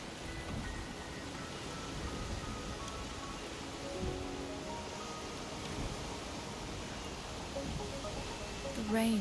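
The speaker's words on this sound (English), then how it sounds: "The rain is subsiding, and the sky will soon clear." Steady rain falls in the video game Wuthering Waves, a continuous even hiss of drops on surfaces that holds at a constant level throughout with no speech.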